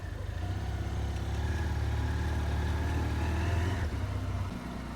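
A Ural Neo 500 motorcycle engine runs close by with a low steady thrum that swells slightly as it pulls away, then eases back near the end.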